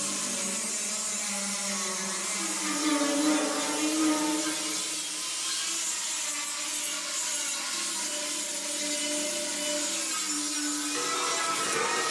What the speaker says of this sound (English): A grinder takes down the rough edges.